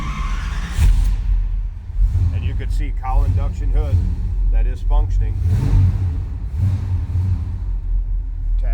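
A 1972 Chevrolet Chevelle Heavy Chevy tribute idles after a cold start, a steady low engine rumble running throughout beneath someone talking over it.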